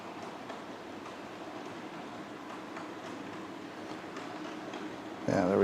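Model railway Delta locomotive running with carriages, a faint steady rumble and light rail clatter in a quiet room, with a louder bump right at the end.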